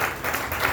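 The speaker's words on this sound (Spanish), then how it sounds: "Gracias por esos aplausos." An audience applauds in a Christian church gathering, a dense wash of clapping hands, steady and fairly loud, heard in a short burst with no speech.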